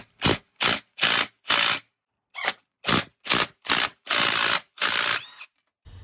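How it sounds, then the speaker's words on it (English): A hand ratchet tightens bolts on a Yamaha R6 motorcycle ignition lock, heard as about ten close, loud bursts of rapid clicking separated by short pauses, with no talk. "A little Loctite, so the bolts don't come out. And so we're going to tighten it."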